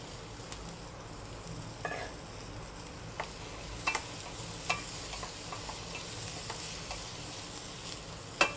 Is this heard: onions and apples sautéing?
yes